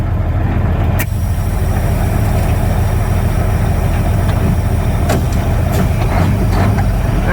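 A Mack truck with a 12-speed transmission pulls away empty, its diesel engine rumbling loud and steady up close, with a short hiss near the start and a few faint clicks over the drone.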